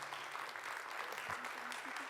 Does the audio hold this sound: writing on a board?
no